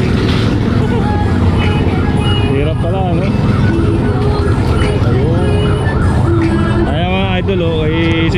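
Police siren wailing on a busy street near the Divisoria market, its rising and falling sweeps cutting through dense traffic noise and crowd chatter, with people talking nearby throughout.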